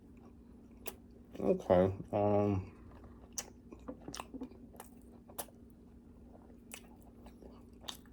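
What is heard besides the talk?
chewing a Safeway roast beef sandwich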